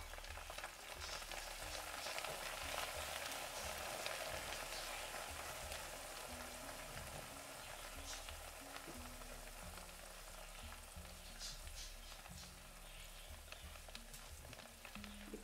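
Onion and garlic browning in a pan give off a faint, steady sizzle with soft crackling throughout and no talking.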